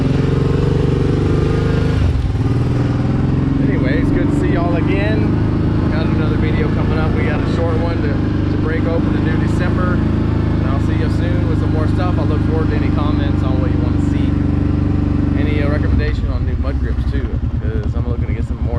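A Kawasaki Brute Force 750 ATV with a Big Gun exhaust mod idles loudly and steadily nearby, its engine rising as the throttle is worked through the middle and settling back near the end.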